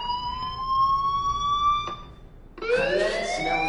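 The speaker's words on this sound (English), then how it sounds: "Hey, do you hear that fire alarm?" Fire alarm in the video game Life is Strange wails as a sustained electronic tone, then shifts abruptly into a rising, warbling siren pattern, loud and continuous with no talking.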